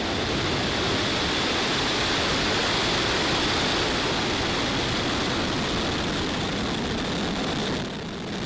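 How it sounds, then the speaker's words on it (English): SpaceX Falcon 9 rocket lifting off on a Starlink mission, a loud, steady broadband roar that holds constant for several seconds before dipping slightly at the end, with no voices over it. "Ignition and liftoff."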